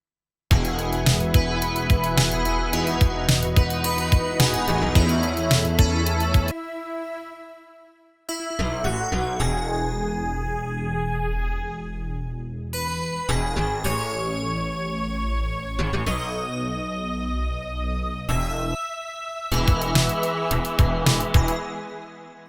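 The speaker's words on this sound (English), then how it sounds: "I also have a type of bell sound coming from the Emulator 3 again." Bright bell tones from an Emulator III sampler ring through a full, layered 80s pop track, with a couple of brief drops in the arrangement.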